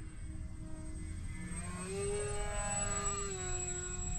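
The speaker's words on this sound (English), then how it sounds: "I like how this plane is, you know, it's pretty quiet with the motors out front" An FF-Stingray model plane with motors mounted out front flies overhead at midday, a steady tonal motor whine rising in pitch and holding over a low wind-like rumble, fairly quiet and continuous.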